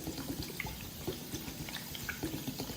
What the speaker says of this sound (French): On va verser du soda bien pétillant